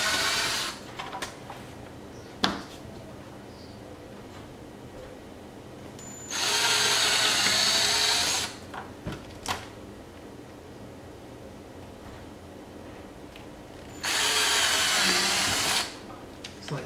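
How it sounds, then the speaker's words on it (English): Two bursts of a power drill whirring, each about two seconds long, drilling holes to fit rear diffuser fins on a C7 Corvette, separated by quiet shuffling and a few clicks nearby. "So you get your drill bit right dead in the crosshairs and you'll be fine."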